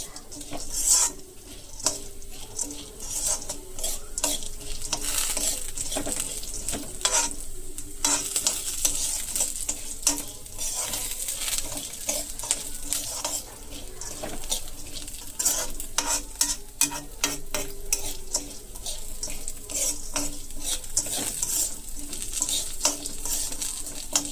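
Chana dal and green chillies fry in a little oil, a constant crackling sizzle with frequent scraping and clinking as a spoon stirs against the pan, close and busy throughout.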